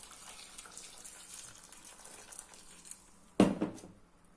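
Water pours briefly over cabbage for a dill-topped dish, a short close splash rising out of a quiet kitchen background near the end.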